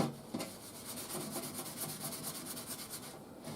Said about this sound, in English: So I don't make so much scraggly noise.